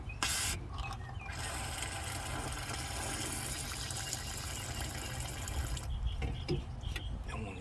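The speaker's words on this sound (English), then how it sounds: "End up using brake parts cleaner." An aerosol can of brake parts cleaner sprays into the fuel system of an old VW in a long, steady hiss. It starts and stops in short bursts and stays faint, with no speech.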